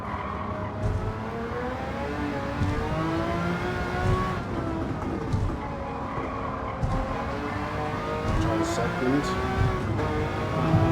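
An engine-swapped 2014 Jaguar F-Type R races in a Tokyo driving video game, its engine droning steadily with shifting pitch and some tire noise throughout, while a voice speaks briefly.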